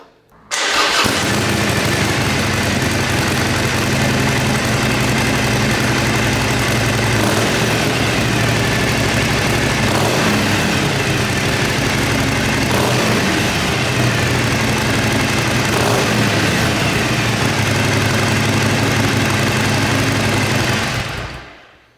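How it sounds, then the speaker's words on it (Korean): A 2020 Harley-Davidson Roadster 1200 with its stock muffler idles after starting, a loud, steady, close-up exhaust rumble that holds evenly for about twenty seconds before cutting off, with no speech. "이번에는 이 바이크의 순정 머플러 사운드 확인해 보시죠"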